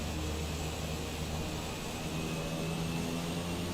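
An airplane in Microsoft Flight Simulator 2020 rolls for takeoff with a steady, loud engine roar and broadband rushing noise, unbroken and without talk.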